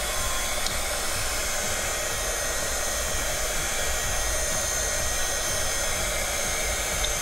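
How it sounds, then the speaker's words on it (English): A hot air tool blows on an M.2 SSD to loosen it, a loud, steady, close airy roar running unbroken the whole time without any voices. "And I'm gonna apply some heat and get it removed."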